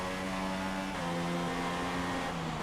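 A Formula 1 car engine in the racing game F1 2016 lets off: a steady, buzzing high-revving drone whose pitch drops a step and then holds, loud and continuous throughout.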